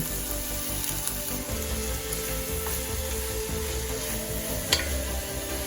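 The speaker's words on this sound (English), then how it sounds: "we're going to be stirring in our frozen corn" Frozen corn is stirred into softened, sizzling onions in a pot for a southwestern clam chowder: a steady close crackling fry with soft scraping and stirring rustles, plus a light clink near the end.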